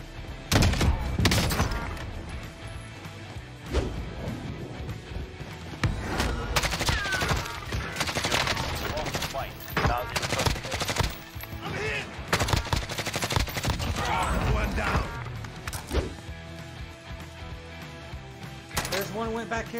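Dense, loud video game gunfire in Warzone, including sniper rifle shots, comes in overlapping bursts and single cracks throughout, with players talking over the shooting.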